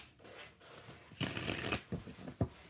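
Cards being shuffled close by, a dry riffling burst followed by a few quick soft slaps and taps as the deck settles.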